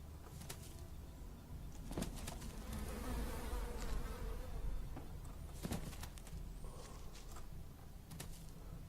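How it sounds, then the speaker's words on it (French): Bees buzzing around a beehive in the video game Elex: a continuous insect drone with scattered sharp clicks from the game, and no voices over it. "C'est quoi ces bourdonnements? C'est une ruche?"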